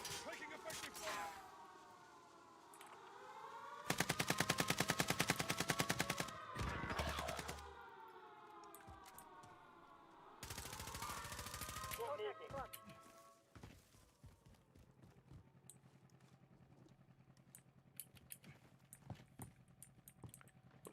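Rapid automatic gunfire from a video game rattles in two long, dense bursts over a droning, wavering tone, with scattered single shots afterward and voices talking throughout.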